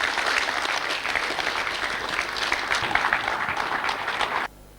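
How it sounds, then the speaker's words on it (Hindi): A standing audience gives loud, sustained applause at a lecture event, the dense clapping running steadily for several seconds and then cutting off abruptly near the end. "आप एक बार खड़े होकर जोरदार तालियों से बुलाएं श्री दिनेश कुमार जी को।"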